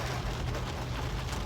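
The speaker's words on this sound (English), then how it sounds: "I don't know if you can hear it, the rain." Steady rain falls outside a car, a dense, even hiss with a low rumble beneath, continuous and fairly close throughout with no talking.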